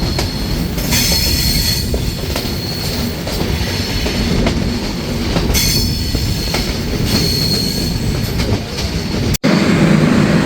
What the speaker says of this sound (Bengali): ট্রেনটি এখন প্রবেশ করেছে মিরপুর রেলওয়ে স্টেশনে